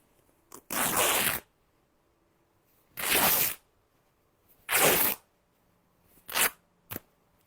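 Patriotic-printed fabric is torn by hand in several separate rips, each a loud, close, raspy tear lasting about half a second, with short quieter tugs at the end and silence between.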